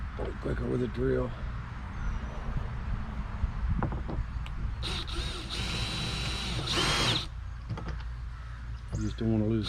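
A power drill whirs in short bursts at close range during a fish finder transducer install on a boat, alternating with rattles and handling noise as someone talks over it.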